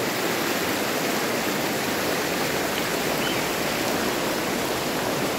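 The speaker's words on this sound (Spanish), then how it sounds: "acá está fuerte la correntada" Strong, steady rush of fast-flowing river water, loud and close, a dense broadband roar with no pauses.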